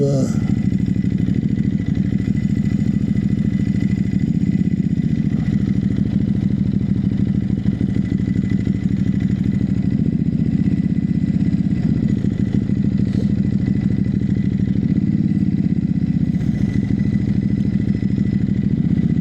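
A motorcycle engine runs steadily throughout, a loud continuous low drone heard up close with no clear revving changes, with faint talk mixed in.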